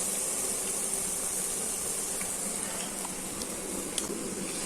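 White pumpkin pakoras fry in hot oil with a steady, close hiss and bubbling sizzle. Faint crackles pop occasionally over the constant frying, and no one talks.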